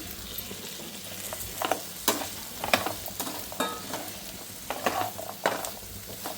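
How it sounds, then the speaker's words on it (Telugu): Vegetable pieces for a coconut-jaggery-chilli curry drop into hot tempering oil and fry, a steady close sizzle broken by repeated stirring scrapes and clatters, with no talking. "ఇప్పుడు ఈ ముక్కలు నేను తాలింపునే వేసేస్తున్నాను"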